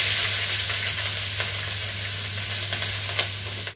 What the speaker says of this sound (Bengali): এবার সবজিগুলো যা যা আছে ভেজে নেব।